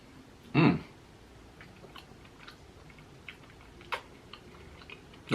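Close, crunchy bites and chewing of a Crumbl cookies and cream milkshake cookie, one loud bite followed by quieter intermittent chewing clicks and a final crunch.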